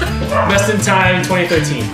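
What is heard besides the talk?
dog barking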